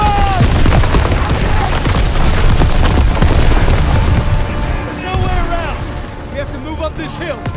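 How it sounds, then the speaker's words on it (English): Artillery barrage in the Call of Duty WW2 battle at Hill 493: dense, continuous rumbling booms and blasts layered with gunfire, loud and close throughout, easing slightly toward the end, with battlefield voices shouting underneath. "Get down! Artillery barrage!"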